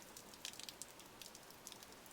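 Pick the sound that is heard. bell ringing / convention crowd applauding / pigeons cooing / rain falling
rain falling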